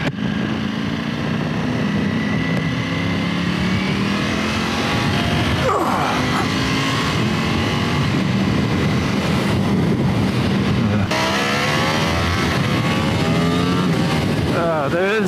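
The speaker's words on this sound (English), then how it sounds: "There is something really nice about a Ducati V4. It revs up real fast." Loud, continuous roar of a 2020 Ducati Panigale V4 S superbike engine revving up and down through gears, close and sustained, with wind noise throughout.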